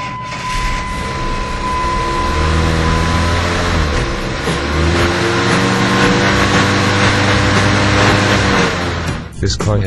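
A six-cylinder car engine turns over and runs with a loud, layered rumble that settles into a steady drone, then cuts off abruptly near the end.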